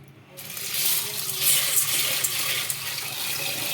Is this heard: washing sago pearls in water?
yes